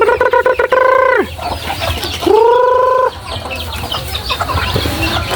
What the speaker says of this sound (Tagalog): kailangan na nating magpakain sa ating mga alagang manok